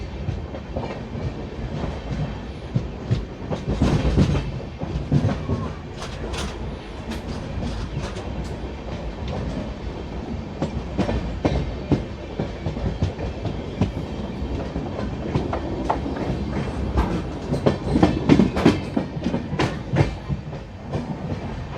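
Lingampalli to Kakinada Town Special Express rolling along the rails, with steady rumble and repeated clickety-clack of wheels over rail joints, close and sustained, occasional louder clunks.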